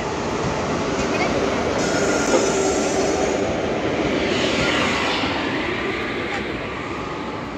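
A late-running train arriving at Masur railway station, a loud, steady rumble and rushing roar that holds for several seconds.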